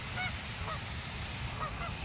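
A few geese honk at a distance, a couple of brief calls standing out faintly against steady rain and outdoor hiss.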